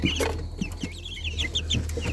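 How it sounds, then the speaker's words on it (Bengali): Guinea fowl in a poultry house at night give rapid, repeated high chattering calls mixed with clucking, close and lively, over a constant low electrical hum. "তিতিরগুলার ডাক কিন্তু অন্যরকম কেমন যেন একটা শব্দ করে তারা ডাকে"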